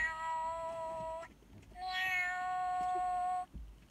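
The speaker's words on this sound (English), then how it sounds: "the second animal is this cute little baby kitten" Toy baby kitten from a FurReal Friends line, giving two long, drawn-out electronic meows separated by a short pause, clear and close with a tonal, slightly synthetic quality.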